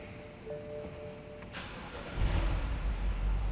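A 2011 BMW 128i E82 with an N52 engine, suffering misfires and a crank-no-start fault, is cranked and fires up, with a starter whine and then a rough, uneven idle close by.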